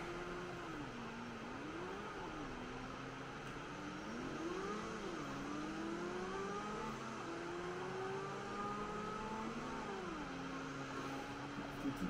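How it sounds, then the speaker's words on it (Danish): Motorcycles and traffic in the video game GTA 5, a quiet steady hum of engines with wavering, rising and falling revving tones from several motorbikes over a continuous traffic drone. "Det er motorcykler, der larmer lidt."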